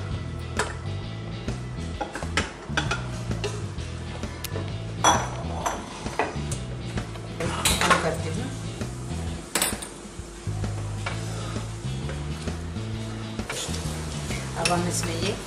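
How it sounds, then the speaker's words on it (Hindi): Smooth shahi paneer paste is poured back into a kadhai, with a steady sizzle under close scraping and clatter of a spoon against the metal pan, continuing throughout. "हमारा स्मूथ पेस्ट बन के तैयार हो गया है, जिसे मैं वापस से कढ़ाई में डालती हूँ।"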